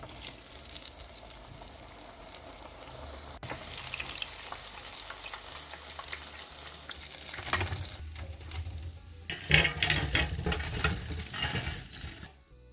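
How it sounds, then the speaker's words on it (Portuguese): Steady, loud sizzling of chicken and cassava croquettes deep-frying in hot oil, with occasional clinks of utensils and a surge of crackling near the end. "Frite os salgados imersos no óleo, mergulhados no óleo."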